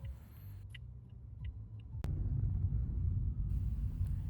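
Road traffic on a city street in Colombo, a steady low rumble of cars and engines passing nearby, swelling louder partway through and continuing without speech.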